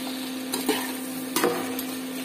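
Tomatoes fry in a pan with a soft steady sizzle, broken by a few scraping strokes of a spoon stirring, close by and moderately quiet, with no talk.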